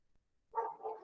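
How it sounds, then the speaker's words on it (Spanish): A small pet dog barks twice in quick succession, faint and somewhat distant, in an otherwise quiet room. "está ladrando mi perrito"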